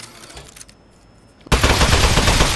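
An Aperture Science Turret opens fire in the game Aperture Desk Job. After a few soft mechanical clicks, a loud, sustained rattle of rapid automatic shots starts abruptly and carries on to the end.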